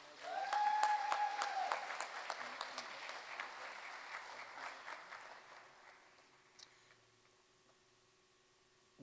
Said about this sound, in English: big round of applause for Argyle Elementary